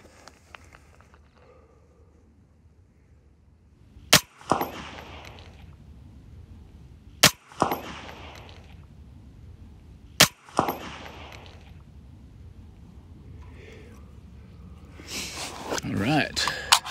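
A custom 6 ARC rifle fires 103-grain Hornady Black rounds at steel targets outdoors: three loud, sharp reports about three seconds apart, each trailing off in a rolling echo, with background noise rising near the end.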